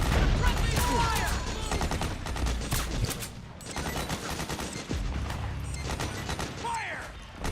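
Suppressing fire in Metal Gear Solid 4: Guns of the Patriots, with rapid, loud machine-gun bursts and scattered shots rattling continuously alongside mechanical clatter, with shouting voices mixed in.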